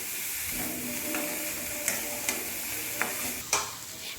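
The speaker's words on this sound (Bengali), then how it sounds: "দেখুন সব কিছু আমি আরও একবার ভালো করে মিশিয়ে নিচ্ছি" Potatoes, eggplant and fish eggs being stirred in a hot pan, a steady frying hiss broken by several sharp scrapes and clacks of the spoon against the pan, close up with no talking.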